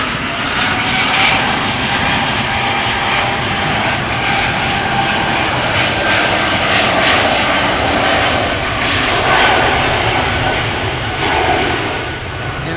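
An Embraer 195 E2 jet airliner takes off at Schiphol Airport with a steady, broad engine roar that stays loud and constant throughout, heard from outside with no talking.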